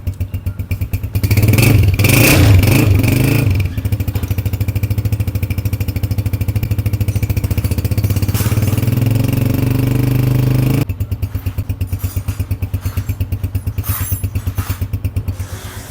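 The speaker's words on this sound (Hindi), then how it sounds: "और ये सिलेंसर का साउंड।" A freshly rebuilt Honda CG125 motorcycle exhaust roars up close, revving hard and holding a loud drone for several seconds, then dropping back to a rapid, popping idle.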